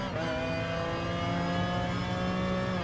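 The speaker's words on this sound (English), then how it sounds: "Get the great acceleration out of this corner." Race car in Gran Turismo Sport powering out of a corner, a loud steady engine whine climbing in pitch as it accelerates, close and continuous with no talk.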